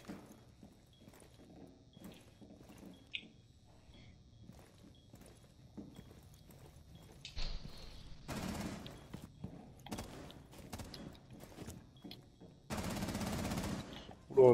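Twitch's rapid-fire weapon in Rainbow Six Siege: quiet footsteps and small movement sounds, then loud bursts of fast automatic gunfire in short strings and a longer sustained burst near the end.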